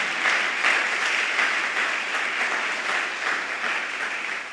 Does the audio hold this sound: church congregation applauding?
yes